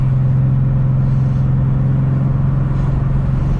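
A modified 2005 Nissan 350Z with a VQ engine, plenum spacer and rolling anti-lag tune rumbles loudly and steadily up close, a constant deep idle-like drone with slight fluctuations.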